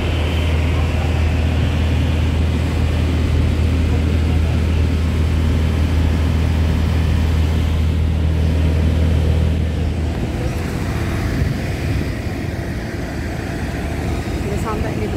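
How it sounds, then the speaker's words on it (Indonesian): An airport shuttle bus at Mumbai Airport drives with a steady low engine rumble and road noise throughout, with people talking inside. "So this is the shuttle bus ya teman-teman."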